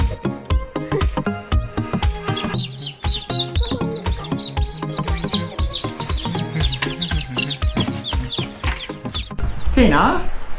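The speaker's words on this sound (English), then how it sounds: "My chick is just starting to hatch." Newly hatching chicks and other chickens cheep and cluck in a dense, continuous chorus close by, with a brighter burst of chirping near the end.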